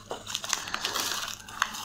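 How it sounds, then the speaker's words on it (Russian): A small plastic packet of herbs for homemade absinthe crinkles and rustles as it is pulled out, with several close, brittle crackles over about two seconds and no talking. "Сейчас я достану и уберу маленький пакетик с травами,"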